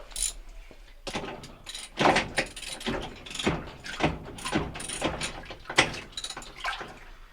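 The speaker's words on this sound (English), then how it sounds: "using your ratchet, you're going to loosen the screw or the bolt." A hand ratchet works a tight bolt loose on a Maytag MTW6700TQ1 washer, giving repeated clicking, scraping bursts in an uneven rhythm, close and fairly loud, with no talking.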